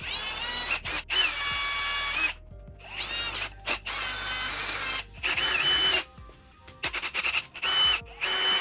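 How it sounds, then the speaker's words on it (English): Power drill with a 5/16 bit boring an 8mm hole while fitting a Mo.Blaze tail tidy on a BMW R9T, heard as repeated close, loud high-pitched whining bursts that start and stop with short gaps between them. "We're using a 5/16 drill to make my 8mm hole."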